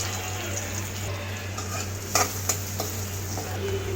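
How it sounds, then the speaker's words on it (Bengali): Chopped onion and sliced chili sizzle in leftover fish-frying oil, a steady broadband hiss with a couple of sharp clinks from a utensil against the pan partway through, heard close and without talk. "মাছ ভাজা অবশিষ্ট তেলে দিয়ে দিচ্ছি পেঁয়াজ কুচি এবং মরিচ ফালি।"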